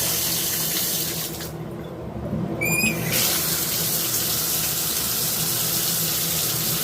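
Water runs steadily from a bathtub's hot water valve, a constant broadband rush that dips briefly and then returns at full, close strength with no talking.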